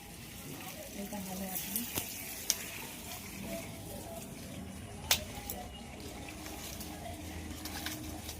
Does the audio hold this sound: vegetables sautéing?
yes